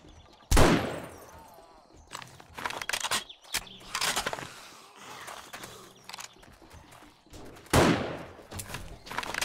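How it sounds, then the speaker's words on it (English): Gunfire in the 7 Days to Die video game as a player shoots at zombies outside a house: sharp, loud single shots at the start and near the end, with scattered thumps and rustling between. "I'm just gonna shoot them from over here."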